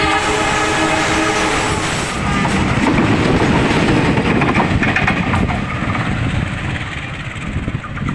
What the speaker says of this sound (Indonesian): KRL udah masuk stasiun Pasar Senen